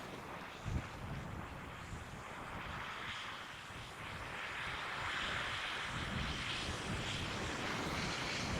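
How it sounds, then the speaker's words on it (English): Camera drone lifting off and flying over Chesil Beach at sunset, a steady broadband whir blended with strong wind noise, fairly loud and continuous throughout, with no talking. "What I might do now is get the drone up."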